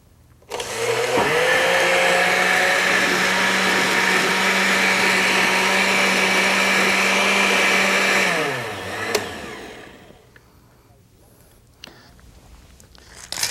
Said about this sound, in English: let's blend it all together